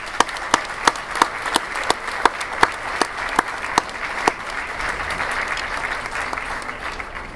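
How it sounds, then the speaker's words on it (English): A graduation audience claps for its students, with a few sharp, spaced claps at first that build into steady, full applause. "let's give them all once more a collective round of applause"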